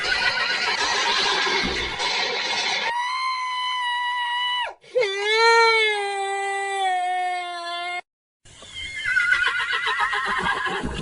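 A horse near a horse-drawn tanga cart in a valley gives a loud, close, drawn-out whinny in the middle, set between stretches of rougher, noisy background sound, with no talking.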